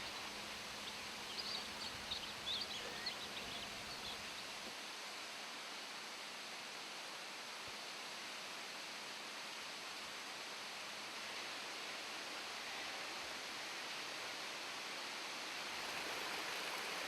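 Norland Falls in the Kakadu bushland spills into its plunge pools with a faint, steady broadband rush of falling water. It continues unbroken and carries a slight low hum early on. No voices.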